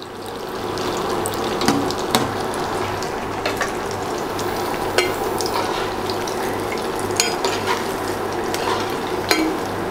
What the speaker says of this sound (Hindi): इसे बीच बीच में चाशनी में पलटते रहेंगे बिल्कुल अच्छी तरह से ये चाशनी में डूबा रहे